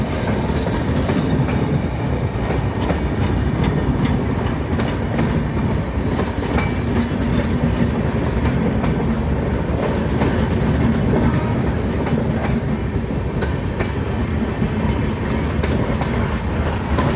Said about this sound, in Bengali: Local train.